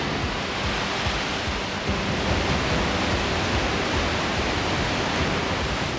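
A roaring waterfall in Shikoku, Japan, ranked among the country's top 100 falls, gives a steady, dense broadband rush of falling water that stays constant and loud throughout, with no voices.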